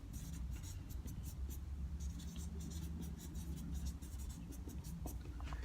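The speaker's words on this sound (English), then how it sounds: "let me write this here, and I hope you can see it" A pen scratches across paper in short, quick strokes with brief pauses between words, close and fairly quiet, over a low background rumble.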